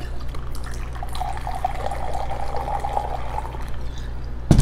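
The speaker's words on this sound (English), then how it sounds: "So, we pour our liquid in." Liquid poured into a cocktail shaker while making a drink, a thin, steady trickling stream running for several seconds over a low background hum, ending with a short metallic knock.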